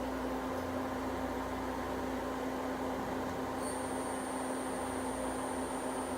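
Citizen M20V CNC Swiss lathe main spindle running with a steady machine hum and a constant tone; a high whine appears partway through as it spins up, with no talk.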